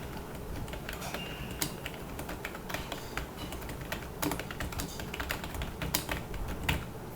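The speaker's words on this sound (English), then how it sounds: "So usually when you type" Rapid, soft key clicks of typing on a Rapoo X1800S wireless keyboard, continuous and fairly quiet, with irregular rhythm and a few sharper taps, no talking.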